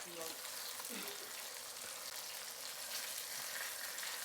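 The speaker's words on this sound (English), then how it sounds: "we're going to do these over easy" Eggs frying over easy in a pan, giving a steady, broadband sizzle that holds evenly from start to finish at close range, with no talk.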